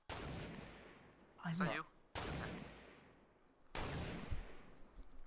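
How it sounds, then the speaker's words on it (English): Gunfire in the video game Fortnite Battle Royale: three loud, close shots spaced a little over a second apart, each with a long reverberant tail. A voice briefly speaks between the first two. "when I shoot, they take long to get there"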